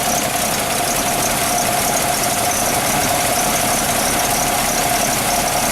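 The engine of a 1974 Toyota Land Cruiser FJ-40 running steadily at idle, loud and close with a constant whine or squeal over the rumble, no talking.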